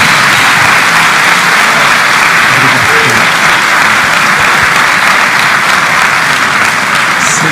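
A congregation at a church missions symposium applauds to welcome an evangelist, loud dense sustained clapping that fills the room steadily with no voices over it.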